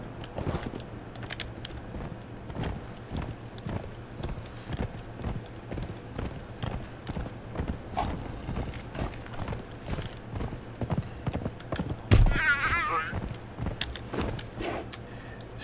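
Horse hooves clip-clop steadily in the survival game Conan Exiles, a quiet repeated trotting rhythm over faint background ambience, with a brief louder burst of noise near the end.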